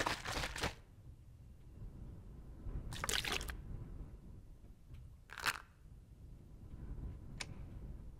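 Crunchy bites of food in The Long Dark, a few separate short crisp chewing bursts spaced apart over quiet game ambience.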